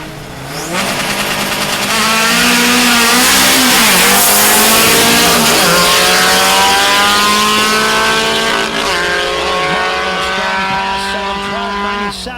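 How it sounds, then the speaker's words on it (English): A turbocharged VW race car accelerates hard down a drag strip at a VW Nationals meet, its engine roaring loud and steady as it climbs through the gears, with possible faint tire squeal and a voice under the din. "That's a turbo car on the left."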